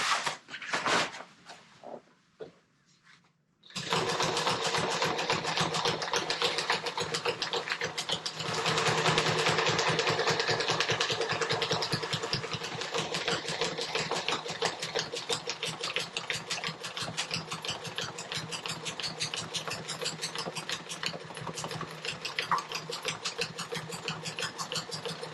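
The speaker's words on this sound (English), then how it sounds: "And then I'll come back and run another stitch further back into the body of the hem there to tie it all together good." An electric sewing machine stitches the thick hem of a 110% jib sail for a Com-Pac 16 sailboat, starting with a few short clicks and then running in a long, steady rapid whir that surges slightly in the middle.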